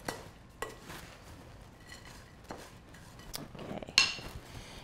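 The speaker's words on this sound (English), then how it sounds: "I'm just gonna give it one more stir." A spoon stirs a homemade granola mixture in a pot or bowl, giving soft scrapes and light clinks at an unhurried pace, fairly quiet, with a sharper clink near the end.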